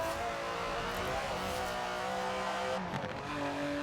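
A GT car's engine roars at high revs in the Forza Horizon 4 racing game, a dense, sustained growl with shifting pitch and a brief dip like a gear change near the end.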